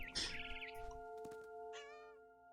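A cat meows in the video game What Remains of Edith Finch: a few bright, wavering cries come first, then a later rising call, all over a steady sustained tonal backdrop.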